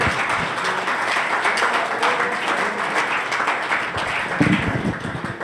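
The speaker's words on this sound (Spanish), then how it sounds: "Dele un fuerte aplauso al Señor." A church congregation in a Spanish-language service claps for the Lord, a lively, sustained round of hand clapping with sharp individual claps and some rhythmic patter, moderately close with faint voices mingled in.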